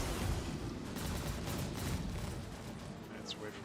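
Spaceship weapons in Star Citizen firing from an Esperia Blade alien fighter make a dense, continuous barrage of rapid booming shots, steady and fairly loud throughout.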